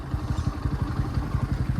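A motorcycle engine runs steadily at a rapid, even low thump, loud and close, during an off-road group ride with no talking over it.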